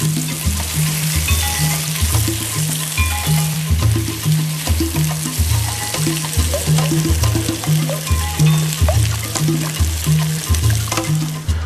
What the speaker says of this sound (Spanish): vamos a dejar que se cocinen nuestras papitas y nuestra cebolla